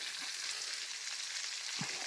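Smoked meat frying in a pan, a continuous close sizzle and crackle that holds steady through the clip, with one soft low knock near the end and no voices.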